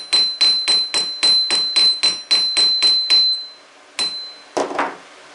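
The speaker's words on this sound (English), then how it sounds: "The reason for doing this peening in between the elongating is just to kind of even all the metal back out." A hammer peens hot steel on an anvil while forging a taper, a rapid run of about a dozen evenly spaced ringing metallic strikes, then a pause and two final blows, close and clear with no talk.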